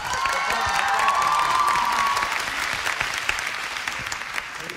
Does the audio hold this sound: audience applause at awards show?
yes